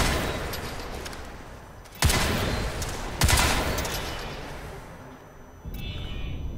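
Gunfire from a weapons tutorial in Crysis 3, with two sharp bursts standing out over a dense, rumbling game soundscape, loud and close, with no talking.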